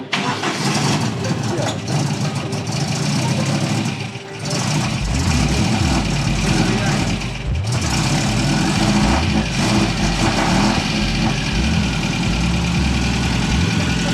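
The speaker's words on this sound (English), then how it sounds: "let's hear this magnificently underpowered car" A small, underpowered car engine cranks and starts, then settles into a loud, close, buzzing idle with rhythmic throbbing pulses, continuing steadily to the end.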